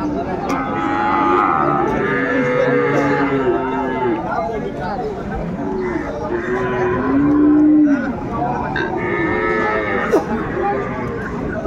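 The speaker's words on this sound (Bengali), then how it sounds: "শাহিওয়ালের মধ্যে ষাঁড় বাচ্চা।" A Sahiwal bull calf at a cattle market moos loudly several times in long drawn-out calls, close by, over steady background chatter from people around it.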